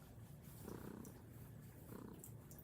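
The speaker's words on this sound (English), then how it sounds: "Oh yeah, I feel the purr." Very faint, low rumbling purr from a cat, soft and continuous, heard close up with no talking.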